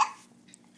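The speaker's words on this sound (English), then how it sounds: "Got the hiccups from laughing so hard?" A single short hiccup, a sharp close gulping catch of breath that fades quickly into quiet.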